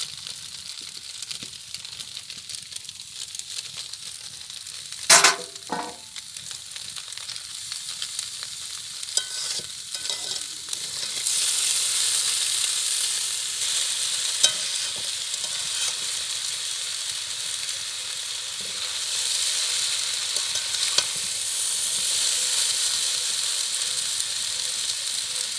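Chow mein stir-fried in a pan with tomatoes and vegetables, a steady broad sizzle with scraping stir strokes and a few sharp utensil clinks, the frying growing louder partway through and holding alone without talk.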